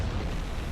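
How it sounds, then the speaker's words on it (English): A torpedo strikes a ship in a U-boat submarine game, a deep, muffled rumbling blast that fills the whole brief moment, heavy and sustained without a sharp onset. "Torpedo impact."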